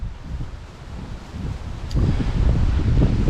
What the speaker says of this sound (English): it has been a windy day